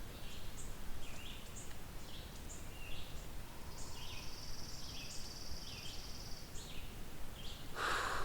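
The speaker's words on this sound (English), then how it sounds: "That would be chipping or pine warbler." Short repeated chipping sparrow or pine warbler song phrases, a dry trilling chirp that swells louder and softer, recurring about every half second over steady outdoor background hiss, with a brief louder burst near the end.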